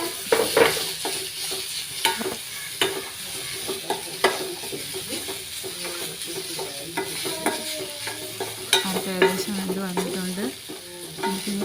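Grated jackfruit thoran being stirred with salt in a hot pan: rhythmic scraping strokes of a spoon against the pan over a continuous sizzle, close and fairly loud, with no talking.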